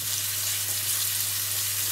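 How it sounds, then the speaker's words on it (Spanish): Chopped garlic sizzling gently in hot oil in a pan over medium-high heat, a steady close hiss with no talking. "Cuando el aceite ya lo tenemos caliente, vamos a sofreír ligeramente el ajo picado"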